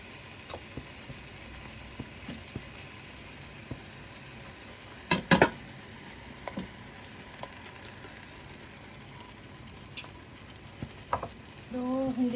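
Coconut milk poured and stirred into a pan of chicken afritada: soft stirring and low sizzling throughout, a brief louder splash of liquid near the middle, and scraping at the end.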